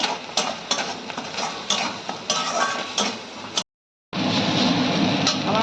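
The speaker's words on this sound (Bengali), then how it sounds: "এবার মশলাটা ভালো করে কষাবো" Spice paste with salt and ginger is stirred hard in a pan, with rhythmic scraping and a continuous sizzle. The sound breaks off briefly to silence and then resumes.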